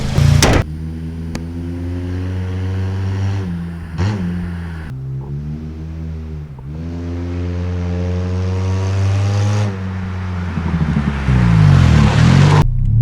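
A Honda VTEC race car engine revs loud and close, holding a sustained harmonic drone that rises and dips across several pulls, ending in a harsher high-rev surge; no one speaks.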